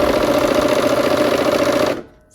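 A sewing machine stitches quilt block seams in a steady, fast mechanical whir for about two seconds, loud and close, then stops abruptly and leaves near silence.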